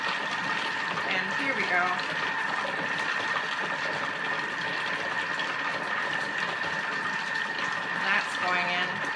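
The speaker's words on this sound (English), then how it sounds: "I'm just going to pour that into the tin on top of the base." A thick, liquid Nanaimo bar middle layer is poured from a bowl into a tin on top of the base, a steady, soft trickling under close, ongoing talk.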